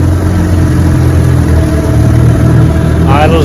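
A 1961 18 HP Evinrude outboard motor idles steadily on a bayou test run, its slipped prop noted, giving a smooth, even low drone that carries throughout.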